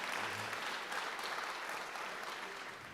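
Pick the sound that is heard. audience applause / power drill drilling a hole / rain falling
audience applause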